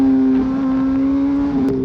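Heavy Suzuki Hayabusa motorcycle engine holding a loud, steady drone with a slight rise in pitch, close and continuous, no speech.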